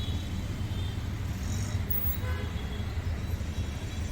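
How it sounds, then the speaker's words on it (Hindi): Road traffic rumbles around a vehicle driving home, a steady low drone of engines and road noise with faint passing vehicle sounds and no clear talk. "इतना ट्रैफिक है ना सब तरफ"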